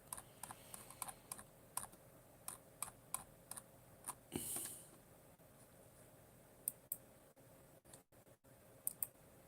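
A computer keyboard and mouse click in scattered, sharp taps at irregular intervals, with a brief rustling swell in the middle, all faint and close over a quiet room hum.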